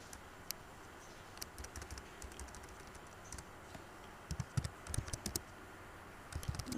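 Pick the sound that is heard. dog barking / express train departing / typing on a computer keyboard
typing on a computer keyboard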